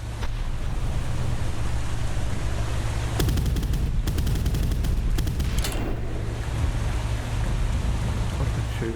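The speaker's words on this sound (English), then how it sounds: "The mortar guy was firing." Mortar fire in the naval combat game Boat Crew: a cluster of sharp, loud blasts bursting over a steady boat-engine drone and rushing water, then another short volley, with no voices.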